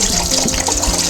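Water pours steadily into the side tank reservoir of a GE Opal 1.0 nugget ice maker, a continuous close splashing gush.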